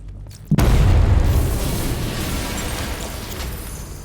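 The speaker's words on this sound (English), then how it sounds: "I'm not far enough away to detonate the explosive." An explosive cache detonates in Batman: Arkham Knight, a sudden loud boom after a brief quiet start, followed by a long, deep rumbling roar that slowly fades.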